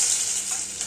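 Garlic paste fries in hot oil with nigella seeds and a dried chilli, giving a steady, bright hiss of sizzling close up and no talking.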